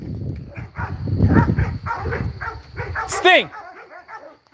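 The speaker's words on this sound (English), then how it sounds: "Everybody's barking." Several dogs bark and yelp in short bursts close by, mixed with someone shouting over them and a sharp whistle-like squeal near the end.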